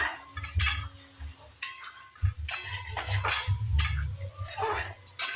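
A spoon scrapes and clinks in a cooking pan as fish and eggplant are stirred, in several uneven bursts of metallic scraping and soft clatter, close and moderately loud with short pauses between.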